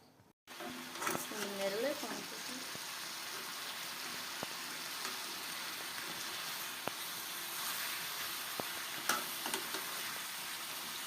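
Masala frying for a festive mutton gravy, a steady dense sizzle that fills the whole stretch at moderate level, with brief stirring sounds near the start.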